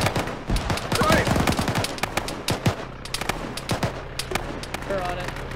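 Military video game gunfire in Arma during a ShackTac operation: dense bursts of automatic fire and single shots crack throughout, loud and close, with excited voices talking over the battle.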